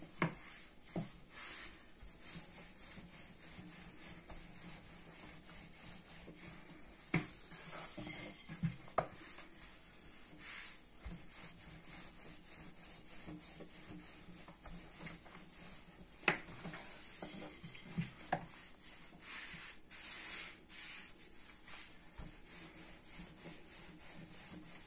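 Manti dough rolled out on a wooden surface, a quiet, steady scraping and rubbing of the rolling pin with occasional louder knocks and clicks over nearly half a minute.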